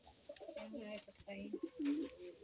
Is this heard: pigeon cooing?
yes